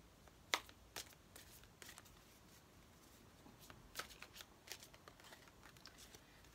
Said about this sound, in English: So you can shuffle that way